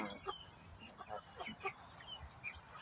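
Three-month-old farm chickens cluck softly and intermittently in a quiet, distant-sounding coop, with short scattered calls and no talking.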